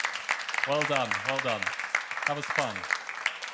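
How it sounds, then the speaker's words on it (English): Group applause with scattered clapping runs under a voice talking over it near the close of a team-building Marshmallow Challenge workshop. "I'd like you all to give yourselves a big round of applause."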